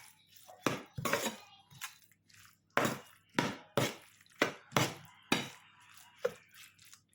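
Mango and green chili pickle being stirred with vinegar, a spoon scraping and clinking against the bowl in a string of sharp, close knocks and scrapes, with no one speaking.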